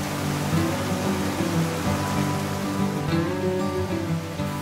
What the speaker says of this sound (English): Never-ending drops and small waterfalls